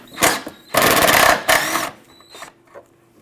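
A power ratchet or impact tool spins out 10mm bolts holding the windshield washer tank on a Dodge Grand Caravan, in close, loud whirring bursts of about a second each, separated by short pauses and fainter trailing clicks, and no talking.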